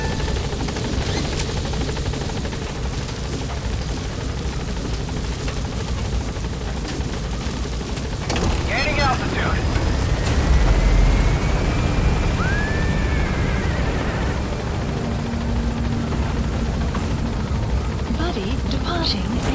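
An extraction helicopter lifts away in Metal Gear Solid V: The Phantom Pain, a steady rotor thrum throughout with a louder burst midway and occasional sharp whooshes, while voices talk over it.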